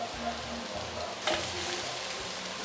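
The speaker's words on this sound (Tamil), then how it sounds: "எல்லா சாதம் மேலேயும் இந்த காய் முட்டைலாம் பட்டுற மாதிரி நல்லா கிளறி விட்டுருங்க" Cooked rice with fried vegetables and egg is stirred in a pan, making soft sizzling and scraping sounds with one sharper clatter of the spoon midway, quiet and close with no voices.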